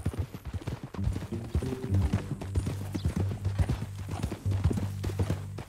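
A horse in the Red Dead Redemption 2 video game walks along with steady, clear clip-clopping hooves, close by, while a low tonal background hum plays underneath.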